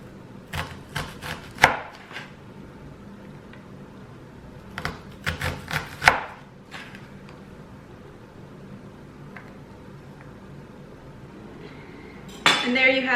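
A knife chops an onion straight down on a board: two quick clusters of sharp, close taps, then a pause and a louder burst of chopping at the end.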